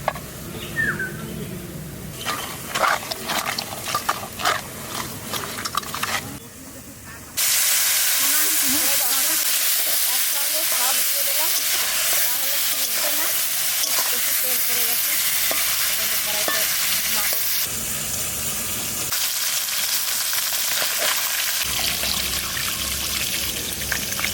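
Magur catfish seasoned with salt and turmeric dropped into hot mustard oil, bursting into a loud, steady close sizzle and hiss after a few seconds of quieter kitchen handling sounds.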